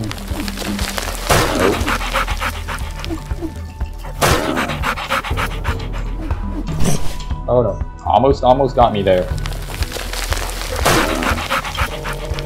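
A dog pants steadily in the video game Twelve Floors, rapid breaths running through most of the stretch while a person talks over it, with a few sharp knocks along the way.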